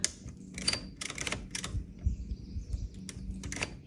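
A 1947 Royal Quiet Deluxe typewriter has its carriage and levers worked, giving close, irregular mechanical clicks, clacks and a sliding carriage rattle, with faint chirps in the background.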